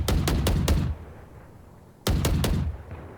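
Gunfire in the tactical shooter Valorant: a rapid burst of four sharp shots, a short quiet gap, then another burst of four, loud and close with no talk over them.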